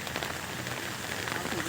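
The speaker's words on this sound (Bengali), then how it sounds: "প্রচুর বর্ষা" Heavy overnight monsoon rain pouring onto surfaces in a rural vegetable-growing area of Bengal, a dense, even hiss of countless drops, close and loud throughout with no gaps.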